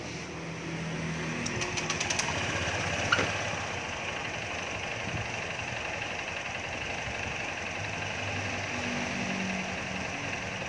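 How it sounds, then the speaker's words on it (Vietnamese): A 2018 Honda Lead scooter, in for repair of a failed starter system and lost diagnostic signal, fires up with a brief start and settles into a steady, buzzing idle close by, with no talking. "Rồi chúng ta nổ máy."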